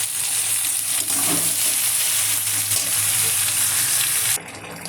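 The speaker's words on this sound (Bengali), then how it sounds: "এবারে দিয়ে দিলাম পালং শাক।" Spinach hits a hot frying pan and sizzles steadily and loudly close up, with a constant hiss of frying that drops off abruptly at the end.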